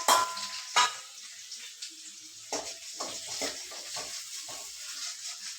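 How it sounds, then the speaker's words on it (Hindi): Onions frying in hot oil: steady hiss with scattered crackles and pops, fairly close, no voices. "ये मेरा तेल गरम हो गया है, अब इसके अंदर मैं डाल दूंगी कटी हुई प्याज"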